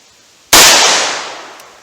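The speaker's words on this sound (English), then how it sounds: "357 mag, I'm going to do double action, and I'm going to shoot a little bit to the right of that 7." A single sharp .357 Magnum handgun shot fired double action cracks loudly, close by, and then rings out in a fading tail.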